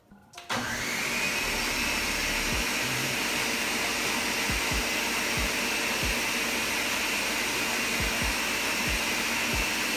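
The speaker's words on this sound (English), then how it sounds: "We're on our last bit of blending. So let's go ahead blend that" A blender runs continuously, whirring steadily as it purees soaked beans into batter for Nigerian akara, loud and near from start to finish with a few faint knocks underneath and no talking.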